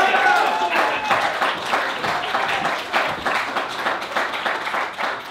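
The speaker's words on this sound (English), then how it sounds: "So give a round of applause and we'll join the Vax Jim Mill." A late-night comedy show audience breaks into dense, loud applause, many hands clapping continuously and evenly, with a brief whistle-like tone at the very start before the clapping settles into a sustained wash.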